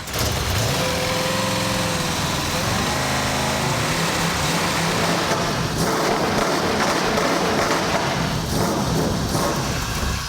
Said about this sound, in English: it should be enough to go ahead and start the engine